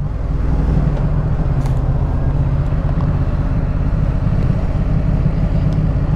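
A Yamaha XSR700 motorcycle engine gives a continuous low, throbbing rumble on the move, close and steady, with light wind noise over it and no pauses.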